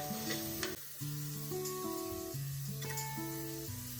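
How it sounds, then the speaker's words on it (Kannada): Tomatoes fry in oil for a vegetable rice dish, a soft continuous sizzle running under louder melodic background music. "ಇವಾಗ ಟೊಮೆಟೊ ಹಾಕೊಂಡು ಫ್ರೈ ಮಾಡ್ಕೊತಾ ಇದ್ದೀನಿ."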